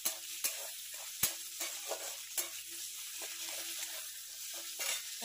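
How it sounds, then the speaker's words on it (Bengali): Lentils (dal) stirred in a hot pan make a quiet sizzle punctuated by several sharp clicks and scrapes of a utensil against the pan, at irregular intervals. "তারপর আমি ডালটা একটু নাড়িয়ে নেবো।"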